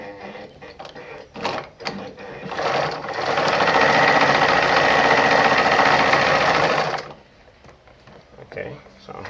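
A Brother ZU2-B680 sewing machine runs in one steady, fast mechanical whir for about four seconds, loud and close, between quieter handling clicks and some speech.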